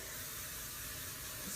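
Hair spray sprayed onto freshly curled hair, a loud, steady, close hiss held without a break.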